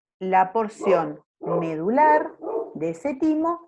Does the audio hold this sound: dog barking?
yes